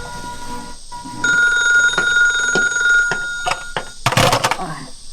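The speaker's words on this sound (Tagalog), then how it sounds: "Naguni ti telepono." A telephone rings with a steady bell tone for a couple of seconds, followed by a few clicks and clatter.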